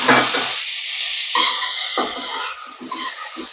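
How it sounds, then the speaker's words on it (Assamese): Drained peas hiss and sizzle in spiced oil in a pan, a close crackle that fades in and out with a few stirring scrapes. "এতিয়া এইখিনি মই অকণমান ভাজি ল'ম"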